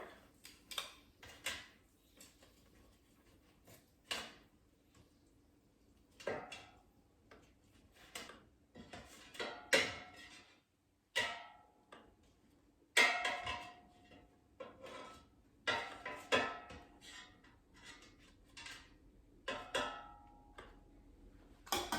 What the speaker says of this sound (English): So just carefully flip each potsticker.